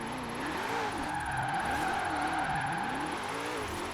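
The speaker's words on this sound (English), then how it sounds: "I can actually accelerate in it and you can see it revving out" A 2020 Shelby GT500 engine in Forza Horizon 4 revs in a rising and falling warble over a steady drone, loud and close, accelerating toward redline, with no talking.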